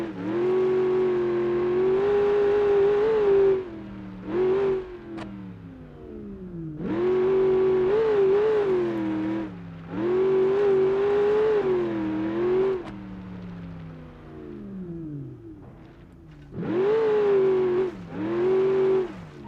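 Engine of an air-ride Baja truck in BeamNG.drive, revving loudly in long rising and falling sweeps between short lulls as it drives and drifts, with no voices.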